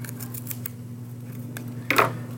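Model rocket fins held together and trimmed, a few soft snips early on followed by one sharper, louder cut near the end, close up over a low steady hum with no speech.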